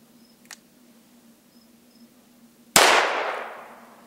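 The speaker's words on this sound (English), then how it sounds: "we're going to fire off a round of number 6 birdshot" A single close, loud gunshot from a Taurus Judge revolver firing a number 6 birdshot round, a sharp crack that rings and decays over about a second and a half after a quiet stretch with a steady low hum.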